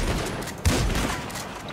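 Gunfire in GTA 5 during a roleplay gang fight: dense, continuous volley of shots with a sharper burst midway, loud and close, with no talk over it.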